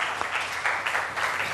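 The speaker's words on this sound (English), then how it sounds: "Let's welcome him. A round of applause." An audience applauds to welcome a franchisee guest onto a quiz-show stage, a dense, steady wash of clapping that holds for the whole short stretch with no voices over it.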